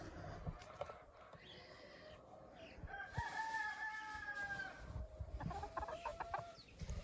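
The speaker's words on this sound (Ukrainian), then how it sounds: "Насправді вони такі півні агресивні." A rooster crows clearly over a busy farmyard din, with hens clucking around it and scattered scratchy noise throughout.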